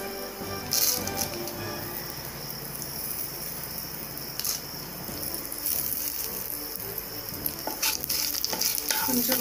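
Bay leaf, cinnamon, fennel and cloves fry in hot oil with a constant crackling sizzle. Occasional louder pops and stirring scrapes rise over it, close up.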